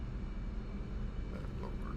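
Jet aircraft, an F/A-18 Hornet, taxiing in the DCS flight simulator game, a steady broad engine rumble and whine holding at an even level throughout the short stretch, with no voices.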